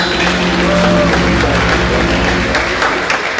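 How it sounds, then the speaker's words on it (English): Applause from a lecture audience at a university inaugural lecture in Benin, a dense, steady wash of many hands clapping throughout, loud and close with a faint murmur of voices underneath. "I thought we would applaud that."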